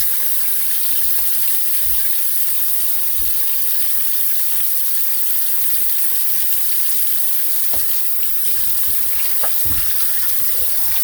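Tap water runs steadily into a sink while raw pork is washed for jerk pork, a continuous close hiss and splash with faint knocks and clatters underneath.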